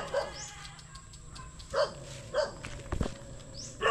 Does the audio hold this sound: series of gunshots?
no